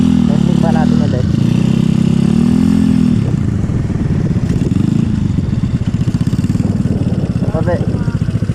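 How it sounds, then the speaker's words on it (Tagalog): A stock Yamaha Raider 150 Fi motorcycle accelerates hard in a short-distance drag test, its engine pitch rising and falling through steady revving at close range, with voices in the background. "lakas arangkada ni Raider FI."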